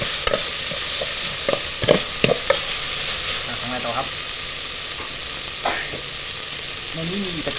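Pork belly stir-fried with kaffir lime leaves in a pan, a steady close sizzle with repeated scraping clicks of a utensil stirring through it, loud and continuous throughout without speech.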